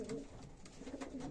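Pigeons in a breeder's loft give soft, low cooing, faint and steady over a quiet background.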